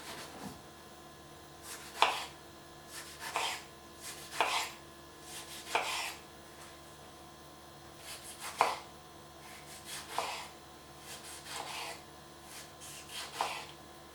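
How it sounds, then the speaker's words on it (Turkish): Steady rhythmic chopping of a knife dicing tomato onto a board, about a dozen distinct strokes evenly spaced, close and clear with no talking. "Domatesimi de küp küp doğrayacağım."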